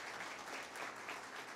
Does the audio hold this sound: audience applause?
yes